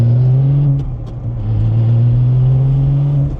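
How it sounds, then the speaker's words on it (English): Porsche 997 GT3 with extensive modifications cruising gently at low revs, a steady close engine drone with a brief dip in loudness partway through, heard alone without talk. "I'm not revving very high, but I'm keeping it quiet and driving around."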